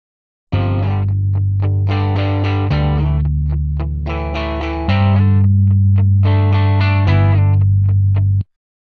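A distorted electric guitar riff plays over a sustained, driving bass line that changes pitch every couple of seconds, loud and close.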